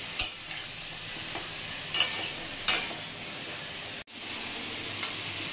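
Potato and pumpkin pieces fry in a pan, a soft continuous sizzle broken by several sharp scraping stirs, close and alone without talk.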